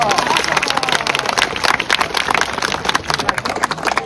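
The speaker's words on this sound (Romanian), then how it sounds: "Hai să-i aplaudăm, bravo, lor!" Crowd clapping after a Roman legionary demonstration outdoors, dense, loud rhythmic hand claps throughout, with voices talking and calling over the applause.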